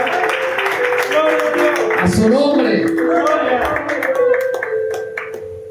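A church congregation claps for the Lord, a steady rhythmic patter running under a loud voice speaking and chanting throughout.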